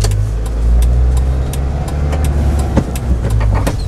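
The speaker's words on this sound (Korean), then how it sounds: "이제 엑셀 밟고" A car engine drones and rises as the accelerator is pressed during a driving lesson on a test course, a steady close rumble inside the cabin with no one talking.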